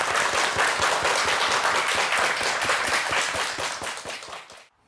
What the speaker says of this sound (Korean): 박수로 우리 감사의 마음을 전하죠.